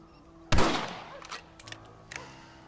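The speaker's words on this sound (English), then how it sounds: "Your back's tense and it's making the rifle jump." A single sharp rifle shot cracks out at target practice in Red Dead Redemption, loud and close with a short ringing tail, followed by a few fainter clicks and knocks.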